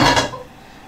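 A wok starts stir-frying chili, garlic slices and wood ear mushroom with one quick, close metallic clatter that fades within a second.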